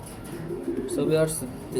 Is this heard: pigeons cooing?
yes